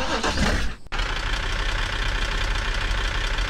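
Car engine idling in Car For Sale Simulator 2023 after a brief start-up, a loud, steady, low rumbling drone close up with no voices over it.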